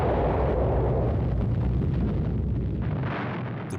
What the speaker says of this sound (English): Fat Man was dropped on the major military port of Nagasaki.